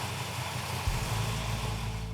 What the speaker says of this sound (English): The engine runs absolutely fantastic.